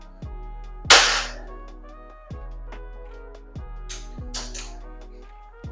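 An RD Super Luxury OD27 classic air rifle from Ciamis fires Jawara Premier pellets, giving two sharp, bright cracks spaced a few seconds apart over a steady musical tone and softer rhythmic knocks.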